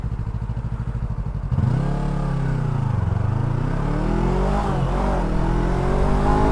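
A Yamaha R25 motorcycle engine runs close by, first as an even idle and then as sustained revving that rises and falls in pitch, loud and steady with no talk.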